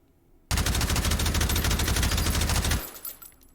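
A suppressed Malyuk carbine fires in H3VR, a virtual reality shooting game, letting off one loud continuous burst of rapid automatic shots for a little over two seconds before it cuts off to quiet.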